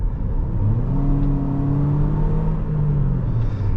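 A 2023 Toyota Corolla Cross XLE engine pulls under acceleration, heard from inside the cabin as a steady, fairly loud, throaty hum with a rising tone and road rumble underneath.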